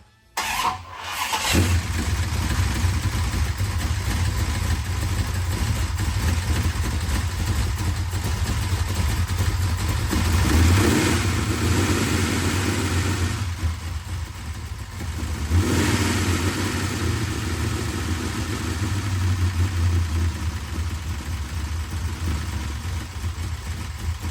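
A restored 1968 Dodge Charger V8 cranks briefly and catches, then runs loud and close for over twenty seconds, its deep rumble rising and falling with a few revs and steady idle stretches.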